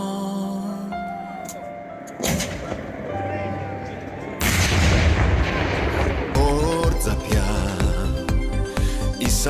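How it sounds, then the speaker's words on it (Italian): Cannon shots boom out at the Barcolana sailing regatta in Trieste, several loud heavy blasts arriving one after another amid crowd noise and music. "il colpo dei cannoni"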